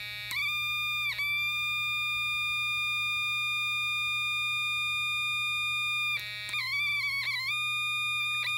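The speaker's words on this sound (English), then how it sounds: "This is the highest pitch that this particular circuit can obtain." A Snap Circuits electronic kit with a press switch emits a loud, sustained high-pitched electronic tone, steady with brief dropouts and wavering pitch bends near the end, over a low hum; no talking.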